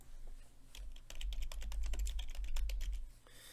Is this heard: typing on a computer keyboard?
yes